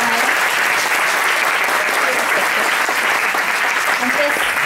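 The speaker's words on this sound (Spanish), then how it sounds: "Un aplauso para la ganadora." At the launch event for the WISC-V test, an audience applauds the winner with dense, loud, continuous clapping that lasts throughout.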